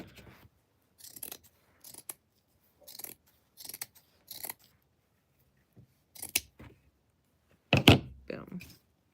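Scissors snipping through headband material in a handful of short, crisp bursts separated by quiet pauses, close up, with one louder, fuller cut near the end.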